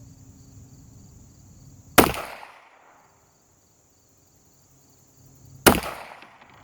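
Two sharp, loud shots from an old, used Ruger Mk II pistol assembled from parts, fired outdoors at a target about 55 yards away, spaced several seconds apart, each with a brief decaying echo and quiet background between, no talking.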